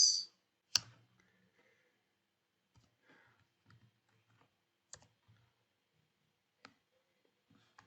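Keys on a computer keyboard click while code is typed, sparse and quiet with irregular single taps and a couple of sharper clacks spread over several seconds, in an otherwise silent room.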